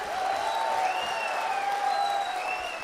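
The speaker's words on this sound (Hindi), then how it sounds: "आपकी तालियां कमजोर है।" An audience claps at a Hindi poetry gathering (kavi sammelan) at the Siwana Utsav festival. The applause forms a steady, moderately loud wash with a faint tone running beneath it throughout.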